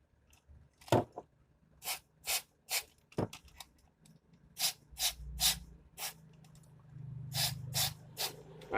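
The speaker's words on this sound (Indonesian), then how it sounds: "Sekarang kita akan semprotkan pada soket" Short bursts of cleaning spray from an aerosol can are aimed at the ECU socket of a flood-soaked car. The hisses come in about a dozen quick, close puffs, some longer, with no talk.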